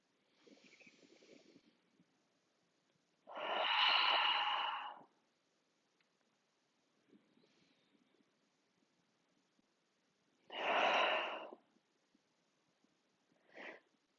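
Slow, deliberate breaths drawn in through the nose and released as soft audible sighs during a yoga session, a few separate breath cycles with quiet gaps between them, close and alone.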